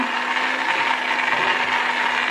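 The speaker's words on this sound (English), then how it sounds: "that is why I'm using my stick blender here." A stick blender whirs steadily and loudly blending a masala mushroom gravy, with a constant motor hum and gritty churning, no talking over it.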